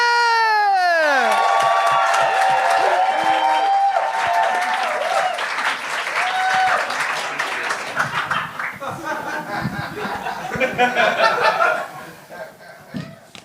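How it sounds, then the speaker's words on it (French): A television variety show audience bursts into loud applause with cheers and laughter right after a performer is introduced. The clapping carries on dense and full, then thins into scattered claps and chuckles as it fades. "un tonnerre d'applaudissements pour Olivier Dagenet!"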